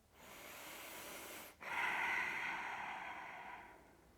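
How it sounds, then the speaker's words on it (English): A single deep inhale and exhale during a restorative yoga pose with a block under the sacrum, soft and close, the breath drawn in, a brief pause, then a longer airy release. "Take a big breath here."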